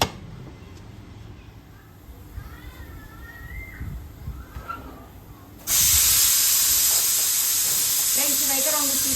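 A pressure cooker holding a broad bean and tomato curry suddenly lets out a loud, steady hiss of steam partway through, after a quieter stretch of kitchen background with faint sounds.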